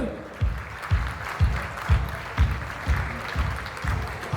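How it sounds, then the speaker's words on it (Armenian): Guests at an engagement party clap for the parents with steady rhythmic applause. About twice a second the claps land in near-unison beats over a busy room murmur. "Ավելի ջերմ, ավելի բարձր ծափերը։"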